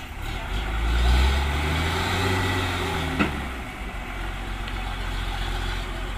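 A toy tow truck gives off a loud, rumbling engine sound that swells early, then settles into a steady drone with a small click partway through. No one talks over it.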